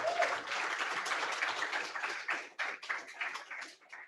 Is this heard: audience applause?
yes